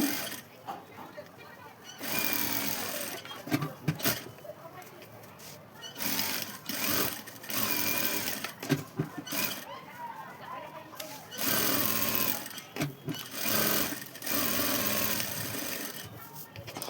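A sewing machine stitches fabric for a small purse in bursts of rapid mechanical whirring, stopping and starting every few seconds, close by, with a voice talking in the gaps.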